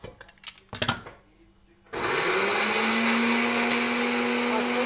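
A mixer grinder switches on after a few clatters and handling knocks, then runs with a loud, steady whirring hum close by.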